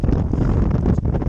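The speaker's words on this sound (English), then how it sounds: "Again folks, sorry about the wind, it's terrible." Strong wind buffets a microphone out in a field near Elgin, Moray, Scotland, making a continuous loud, rumbling roar of gusts close up.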